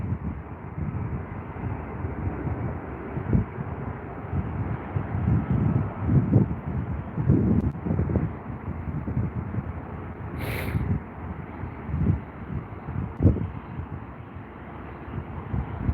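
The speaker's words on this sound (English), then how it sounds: "it sounds windy" Steady low wind rumble buffeting the microphone, with gusty surges throughout and no speech, outdoors at London Heathrow Airport.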